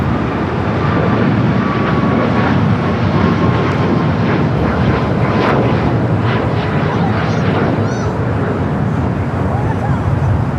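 An airliner takes off at LAX, its steady roaring engine noise filling the clip, loud and continuous, with people talking nearby over it.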